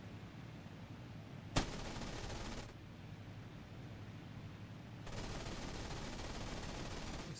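Aircraft machine guns fire in the IL-2 1946 flight game during an attack on an armored train: two long sustained bursts of rapid gunfire over the steady drone of an aircraft engine, the first opening with a sharp crack.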